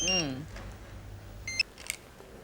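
A phone rings in a domestic setting, a short electronic ringtone with tonal beeps near the start and brief chirps later, heard over quiet background and faint voices.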